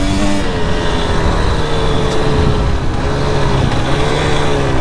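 Four-stroke enduro motorcycle engine running steadily on a forest trail, a continuous loud droning note with slight shifts in pitch as the throttle changes, close and unbroken throughout.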